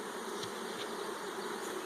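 Honey bees buzz around hive boxes during a summer inspection, a steady hum of many insects with a few nearer bees passing close.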